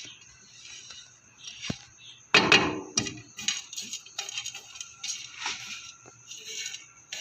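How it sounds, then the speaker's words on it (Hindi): A spoon scrapes and clinks against a frying pan while almonds are stirred and roasted, sparse light taps with one louder clatter, close and fairly quiet, no talking. "चम्मच चलाते रहेंगे"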